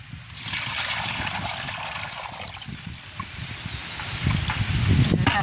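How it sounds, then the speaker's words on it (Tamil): Water splashes and trickles continuously as a scaled village fish (sooda) is washed by hand, close and moderately loud with wet rustling and dribbling throughout, building slightly toward the end. "இது நல்லபடியாக கழுவுவோம்."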